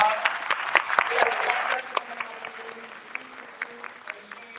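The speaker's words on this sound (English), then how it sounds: "please give Ms. Cunningham a round of applause" An audience claps in sustained applause that gradually thins out into scattered claps, with a voice talking over it.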